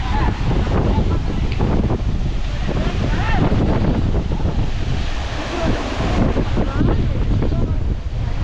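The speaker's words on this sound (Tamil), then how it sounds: "தெரியுதா காற்றடிக்குது பாருங்க" Strong monsoon wind buffets the microphone near Amboli waterfalls, a loud continuous roar with surf-like gusts and a voice speaking over it.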